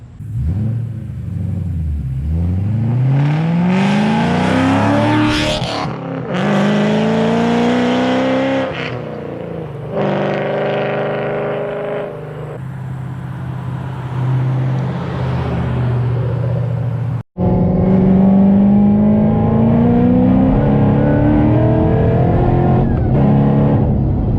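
A supercharged V8 in a 2007-2009 Shelby GT500 rumbles and revs repeatedly, pitch rising as it accelerates down the road, loud and close with brief gear-change dips.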